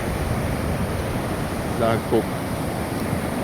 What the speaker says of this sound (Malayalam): കടൽ ഇളകിയും കൊണ്ടാണ് നിൽക്കുന്നത്.